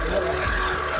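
A second-hand Mitsubishi Lancer's engine idles in a brief, steady, fairly loud low rumble with a constant hum and a faint overlay of higher mechanical whir.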